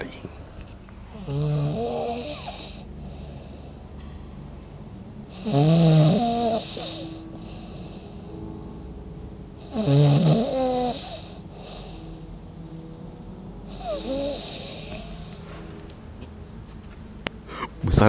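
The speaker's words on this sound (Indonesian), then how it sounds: "Wah, ngorok yang besar sekali." Loud snoring from a young man taking an afternoon nap, four long rasping snores at steady intervals with quiet breathing gaps between, close and unaccompanied by talk.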